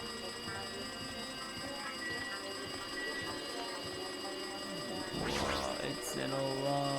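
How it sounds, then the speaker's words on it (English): A phone rings in the Danganronpa 2 video game, a shrill electronic ring that breaks in loudly near the end over a steady game-music bed with harmonic tones. "It looks like the phone is ringing."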